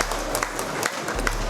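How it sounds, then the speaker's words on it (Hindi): An audience claps loudly and continuously at a seminar launch celebration, a dense, even patter of many hands with a low music bed underneath. "जोरदार तालियों से स्वागत होना चाहिए म्यूजिक के साथ।"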